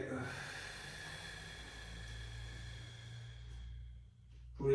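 A person takes a deep breath in during a hip mobility exercise. One long, airy, hissing inhale lasts about four seconds, close and steady, then stops abruptly.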